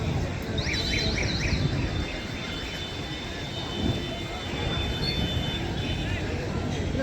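A loud, steady rumble of an approaching Vande Bharat AC electric local train at a level crossing gate in Khardah, with a rising hum and faint chirping tones above it.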